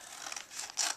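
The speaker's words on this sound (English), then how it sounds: "you're going to just cut a part way down the bag and make about 4 or 5 cuts" Short, quiet snips and scraping of scissors cutting through a paper bag, a few crisp cuts with rustling between them.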